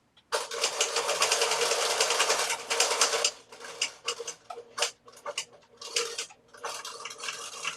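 A sewing machine running a 1/4 inch seam on a pillowcase: a loud, steady close-up whirr for about three seconds, then shorter stop-start bursts of stitching.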